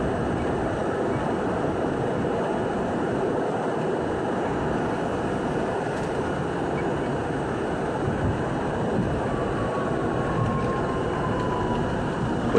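A 1964 Budd Co. R32 car on a Euclid Avenue bound C train in the New York City subway rumbles steadily with a loud, continuous roar of wheels and motors and no breaks in the sound.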